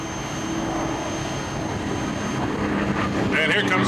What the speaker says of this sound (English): And here comes our P-51, Scat VI.